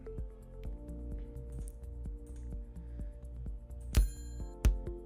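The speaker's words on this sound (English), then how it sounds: "bell, that ring bell? That's the first beat of the compass." A ringing bell marking the first beat of each bar of music, heard as two bright struck rings about half a second apart over a regular ticking pulse, fairly close, with no talk.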